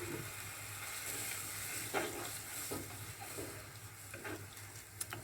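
Scampi seasoned with pepper fry in a pan for a quick garlic pasta, giving a steady, soft sizzle with faint stirring scrapes and a few light clicks, heard alone without talk.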